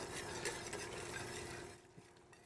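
A spoon stirs a sauce in a pot for coq au vin with soft, quiet scraping and light bubbling, then fades near the end.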